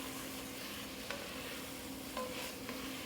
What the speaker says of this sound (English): I want to turn this risotto all around, coat them really nice, let them absorb this